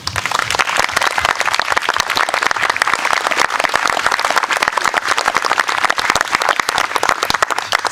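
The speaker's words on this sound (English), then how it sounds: "So give yourselves all a round of applause." A fundraiser audience applauds themselves, loud and close, with dense overlapping claps forming a continuous roar that stays strong and even from start to finish.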